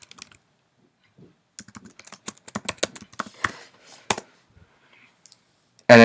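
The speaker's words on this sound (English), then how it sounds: "You type the name, Macintosh Portable, and then you type the name of your program." Keys on a Macintosh Portable keyboard clatter in an irregular burst of close, crisp presses, then slow to a few isolated taps before one louder clack at the end.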